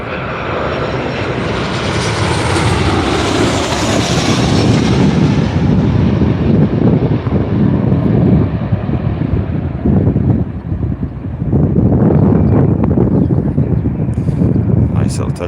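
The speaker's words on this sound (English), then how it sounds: "here comes the Jet2 from Malaga" Jet2 passenger jet from Malaga arriving at Newcastle Airport: a loud, close roaring engine whine with wind buffeting the microphone that sweeps past and fades, then a renewed rumble near the end.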